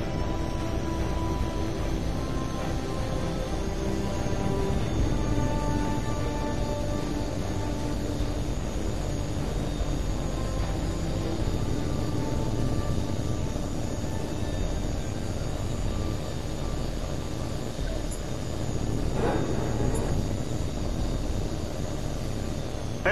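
A jet aircraft engine in Tom Clancy's H.A.W.X. 2 holds a steady loud roar and whine throughout a takeoff run, with a slight surge near the end and no voices.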